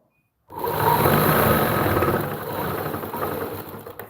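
A sewing machine stitches a lined suit, starting abruptly after a short silence and then whirring steadily up close, slightly softer toward the end.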